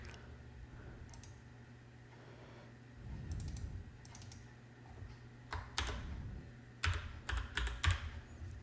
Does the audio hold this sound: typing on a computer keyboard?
yes